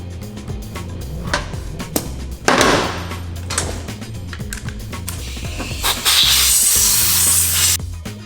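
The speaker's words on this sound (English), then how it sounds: "What is this that you're spraying? This is just contact cleaner." Short hissing bursts of aerosol contact cleaner sprayed near the microphone during a Ducati Monster rebuild, followed by a longer sustained spray, amid scattered clicks and handling noises.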